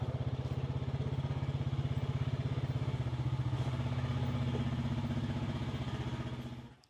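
Honda Pioneer 520 side-by-side idling and rolling in with a steady low throbbing engine pulse at close range, fading out at the end.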